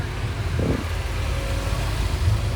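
A manual car driving in second gear during a learner's drive, giving a steady low engine hum from inside the cabin with a brief rise in revs, moderately quiet and without talk.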